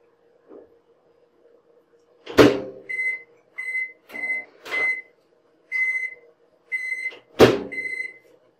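A microwave's hum as it melts chocolate is broken by a few thuds and clicks, then a series of short, evenly spaced beeps rings out clearly nearby.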